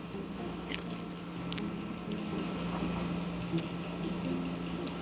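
Someone bites and chews a crunchy, flaky fried dough stick at a breakfast spot in Taipei, soft close crunches and squishy chewing over a steady low background hum with no talk.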